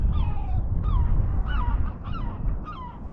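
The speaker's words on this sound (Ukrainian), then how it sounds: "Чаєчки вже літають" Seagulls calling in a series of repeated short cries over a steady low outdoor rumble, with no talking, in springtime fishing surroundings.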